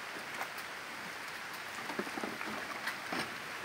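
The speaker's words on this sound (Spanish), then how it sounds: "Empieza a llover, pero estamos preparados." Rain begins falling on a mountain road during a motorbike trip from Jakarta to Ubud, a soft steady patter with a few louder drops, with no voices.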